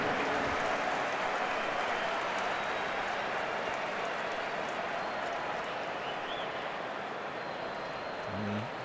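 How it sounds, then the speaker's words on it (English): Large contingent of Arsenal supporters at a club friendly against Barcelona give warm applause, a dense, steady wash of clapping and crowd noise in a big stadium, continuous throughout with no clear individual claps. "warm applause from a large contingent of Arsenal supporters for the skipper"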